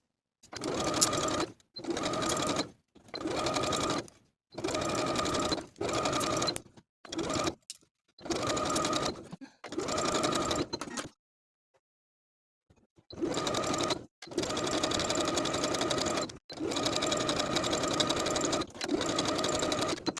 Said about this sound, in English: I'm going to be using a wide zigzag stitch on both sides of the lace